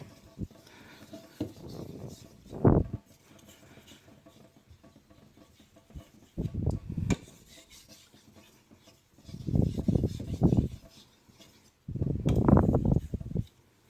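Four separate bursts of rasping, rubbing strokes as a kitchen knife is stropped, each a second or so long, separated by quiet pauses, with no voices.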